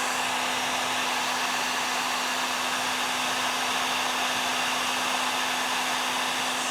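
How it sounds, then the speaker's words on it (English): A heat gun on its full setting blows a steady, even rush of hot air with a faint constant hum, close and alone for the whole stretch, used while building DIY camper steps. "going to try it with a heat gun"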